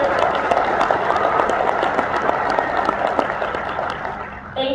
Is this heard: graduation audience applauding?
yes